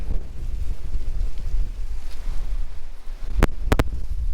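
Strong wind buffets an outdoor garden in a steady, loud low-frequency roar against the microphone, with a few sharp knocks near the end and no talking.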